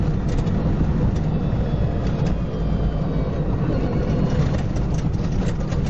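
A modified Ukrainian Niva converted to an electric car drives off-road, giving a steady loud rumble of tyres, suspension and wind noise with rattling jolts, no engine note and no talking.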